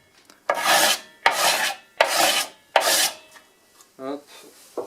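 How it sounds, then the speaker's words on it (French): A small turned wooden box pressed against a belt sander, heard as four rhythmic rasping strokes, each under a second, followed by a softer rougher scrape at the end. "je vais passer un petit coup comme ça sur la ponceuse à bande"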